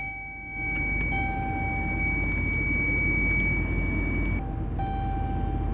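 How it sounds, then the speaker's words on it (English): Repeated electronic warning beeps from the easy lock system in a 2016 Chrysler Town & Country Touring wheelchair van, steady tones sounding close over a low cabin hum with a brief gap near the end. "That beeping you heard is the easy lock."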